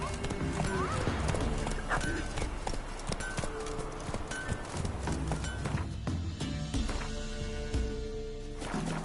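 A horse gallops in The Witcher 3 video game with steady, close hoofbeats, and there is a brief whinny near the start over a busy layer of game music and effects.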